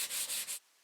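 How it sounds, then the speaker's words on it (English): A sanding block rubs a wooden pumpkin in three quick, close strokes, each a soft scratchy swish, before stopping into silence. "I have a sanding block."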